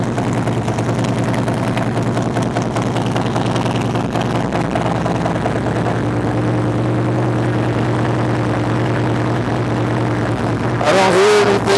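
A motorcycle fitted with Vance and Hines Power Duals exhaust idles in a steady, loud, deep rumble that stays constant throughout, rising slightly in the final second.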